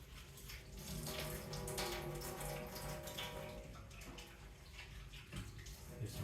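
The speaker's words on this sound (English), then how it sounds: "what I'm just going to do is first wash my hands" Water runs steadily from a tap while hands are washed, a continuous splashing hiss that stays fairly even throughout, close and moderately loud.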